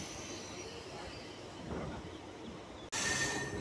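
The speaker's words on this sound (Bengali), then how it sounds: "আমাদের train sir Gurudas Banerjee halt station ছেড়ে বেরিয়ে যাচ্ছে" A train pulls out of Sir Gurudas Banerjee Halt station in Kolkata, a steady close rumble that swells slightly midway, then breaks off and resumes as a brighter, louder roar near the end.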